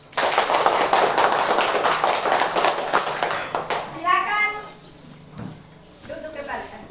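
Class 4 schoolchildren applauding together in a classroom, dense loud clapping for about four seconds before fading, followed by an adult speaking and children's voices.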